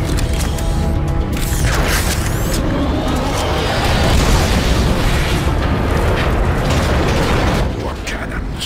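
Warp cannon blasts in the video game Transformers: Fall of Cybertron, heard as a loud, sustained barrage of rumbling explosions mixed with metallic mechanical clatter that barely lets up before easing near the end.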